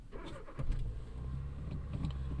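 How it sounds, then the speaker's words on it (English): A car engine starting up, a brief cranking followed by the motor catching and settling into a steady low idle, close and moderately loud. "I'll get in the car, start it up, and go home"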